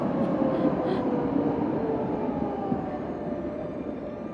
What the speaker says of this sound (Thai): มาดูรถราง รถราง